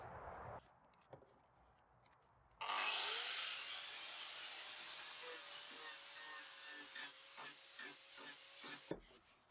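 A carved wooden shape being smoothed down, with a near, steady abrasive grinding that starts abruptly after a few quiet seconds and runs continuously with small surges to the end.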